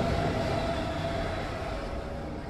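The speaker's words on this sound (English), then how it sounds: "Okay, I'm on a train." A video game train rolls along with a constant, heavy rumble and a dense wash of noise that stays level throughout, with no talking.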